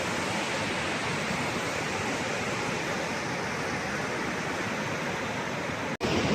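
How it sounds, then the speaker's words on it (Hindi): The Chandrabhaga river in a Himachal village flows strongly with a steady, dense, loud rush of water that holds unbroken throughout, with only a momentary dropout near the end and no voices. "पानी का बहाव बहुत ज़्यादा है और जो नदी का कलर है वो थोड़ा सा ग्रे है"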